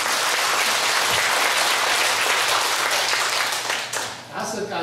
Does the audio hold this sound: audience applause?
yes